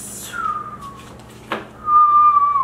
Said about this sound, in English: I have to whistle.